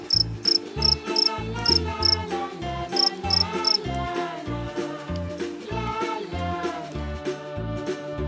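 A cricket chirps in short, regular high-pitched pulses during the first few seconds, heard over loud rhythmic background music that continues to the end.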